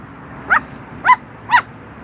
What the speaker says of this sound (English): Okay, they had a dog. Okay, a small dog.